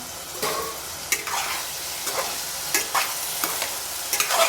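Ridge gourd pieces fry in a pan as the lid is lifted, giving a steady soft sizzle broken by several sharp spatula scrapes and stirs at irregular intervals.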